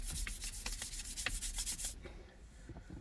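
A leather BMW steering wheel is lightly sanded with 800 grit sandpaper, giving quick, close rhythmic rubbing strokes for about two seconds before the scratching stops and only faint room noise remains.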